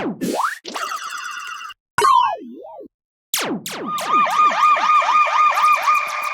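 Electronic siren sound effects in a UK bassline track: a boing, a wobbling warble, then a rapid repeating siren-like whoop that carries on loud to the end.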